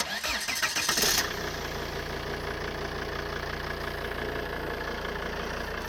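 An old Volvo car cranks with a short churning starter whir, catches, and settles into a steady, even idle that stays close and constant.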